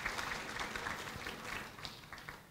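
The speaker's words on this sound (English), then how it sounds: "Can we just give him another round of applause," Moderate applause from a seated audience at a regional water, energy and food dialogue session, with scattered hand claps forming a steady patter that stays fairly soft and even.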